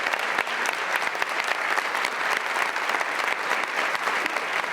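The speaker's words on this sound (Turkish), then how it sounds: "Konserde hafif ve popüler parçaları seçen orkestra sık sık ayakta alkışlandı." Concert audience in Bayburt gives an orchestra a standing ovation, dense steady clapping filling the hall from start to finish with no voices over it.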